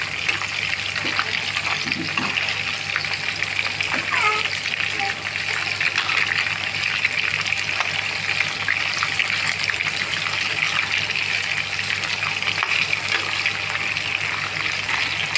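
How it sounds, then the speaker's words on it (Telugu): Chicken lollipops frying in oil over a low flame, a steady, even sizzle and bubbling hiss that continues without a break throughout, with occasional quiet speech underneath. "సిమ్లో పెట్టి వేయించానండి. బాగా వేగుతాయి, లోపల దాకా బాగా వేగుతాయి."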